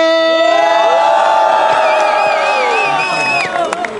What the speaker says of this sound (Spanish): Un fuerte aplauso, ruido, motivación para Anubis versus Nano.